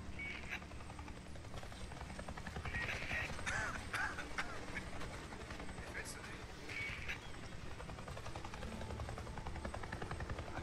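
A steady, droning helicopter rotor in the video game Days Gone whirs continuously throughout, loud and close, with occasional brief higher-pitched effects over it.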